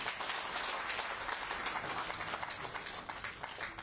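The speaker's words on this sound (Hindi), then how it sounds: "तालियां बजती रहे।" Continuous dense applause from a crowd at a Himachal election political rally, steady and loud throughout with no break, many hands clapping together.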